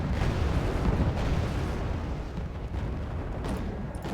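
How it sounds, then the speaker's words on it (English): Mortar fire in Wargame Red Dragon, rumbling low explosions and booms blending into a continuous heavy battlefield roar at moderate distance, with no voices. "Those mortars are so annoying."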